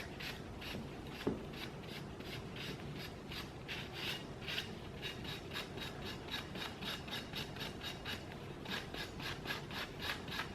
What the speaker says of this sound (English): And just rubbing that paint off, leaving just a little bit of the paint behind for some character.